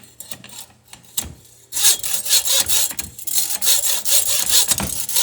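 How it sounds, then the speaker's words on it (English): Wire rigging clamped tight in a block is sawn by hand, a rasping back-and-forth stroke repeating steadily and close up, a few slower strokes at first and then a quicker, louder run. "then this is about the best way to cut a wire. Just really clamp it tight in the block."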